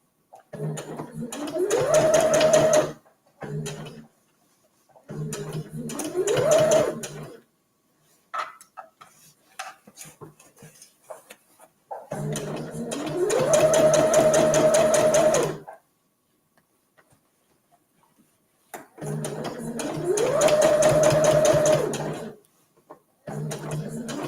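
A sewing machine stitches the side seams of a fabric reusable gift bag in four bursts of rapid mechanical whirring. The bursts are separated by short pauses filled with faint handling sounds, and the machine is close and clear.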